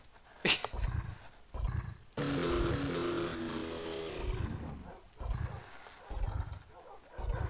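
A dragon in the Minecraft MineFantasy mod lets out a long, loud roar with a snarling, growling texture, set among deep thumping bursts and shorter growls from other creatures nearby.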